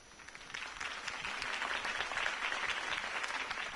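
A crowd applauds after a mayoral campaign speech, steady mid-distance clapping that swells slightly and holds throughout.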